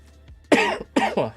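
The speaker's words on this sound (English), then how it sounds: "I've still got this pesky fucking cough as well" Two harsh coughs, close and loud, the second followed by a quick extra burst, against a quiet low hum, from a person with a lingering cough.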